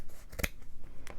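Scissors snip paper pieces for a journal cover: a few quiet, crisp cutting clicks, one sharper snip near the middle and another near the end, heard up close at a table.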